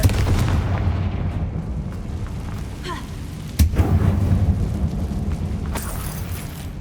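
The Confringo fire spell in the Hogwarts Legacy video game, cast inside an abandoned mine, goes off as a single heavy boom midway, over a low rumbling game ambience with a few smaller pops.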